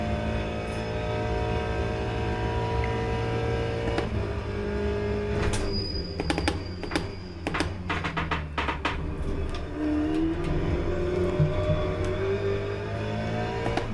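LMGTE race car lapping Monza in Le Mans Ultimate, with a steady engine drone and a burst of sharp clicks and transients midway as the car brakes, then a continuous engine tone again; no talking.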